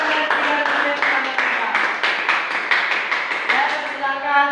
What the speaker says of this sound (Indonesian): Berikan tepuk tangan yang meriah untuk tim panel 3 dan tim panel